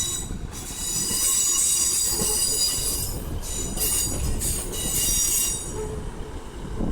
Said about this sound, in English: So our final train of the day will be 156428.